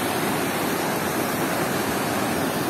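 A river running loudly beneath an old bridge, roughly fifty years old, after recent rain at night: a dense, steady roar of rushing water that fills the whole clip, close and unbroken.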